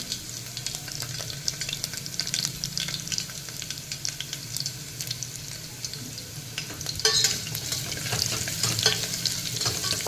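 Hot oil sizzles steadily in a pan as turmeric and asafoetida go in for a dal tadka, with spoon scrapes and a brief louder crackle burst near the end; no talk.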